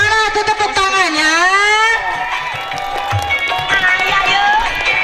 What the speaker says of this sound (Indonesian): mana tuh tepuk tangannya?